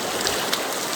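Strong current of a stream rushing steadily outdoors, a continuous broadband wash of moving water heard alone at close range with no voices.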